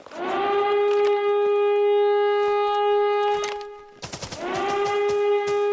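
A loud, steady wailing siren from the game Arena Breakout: Infinite holds for several seconds, cuts briefly amid sharp bursts, then rises again, harsh and continuous.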